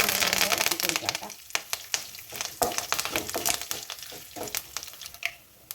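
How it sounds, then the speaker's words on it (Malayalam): Dried red chillies and curry leaves frying in hot oil for a Kerala papaya thoran, stirred briskly so the crackling sizzle comes in dense bursts of scraping and popping, close and fairly loud. "പിന്നെ വറ്റൽമുളക്, പിന്നെ നമ്മുടെ കറിവേപ്പില ആഡ് ചെയ്ത് കൊടുത്തിട്ട് ഇളക്കി കൊടുക്കാം കേട്ടോ."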